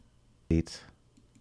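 A computer mouse gives a single sharp click, close and clear, during work at a desk, followed by a brief soft rustle, then near silence.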